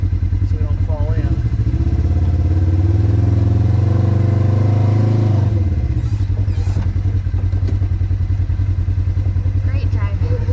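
Off-road vehicle on a steep downhill slope of the Pocahontas Trail, its engine droning loud and steady, rising to a heavier growl midway then easing back, with people talking over it.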